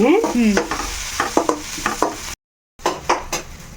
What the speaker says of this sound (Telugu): మనకి ఉల్లిపాయలు వేగిపోయినాయి ఇక్కడ చక్కగా